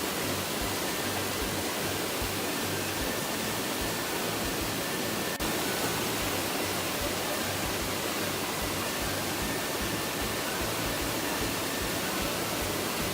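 Water rushing down a slippery rock water chute in Quepos, Costa Rica: a steady, loud, broadband roar with no letup and no talk.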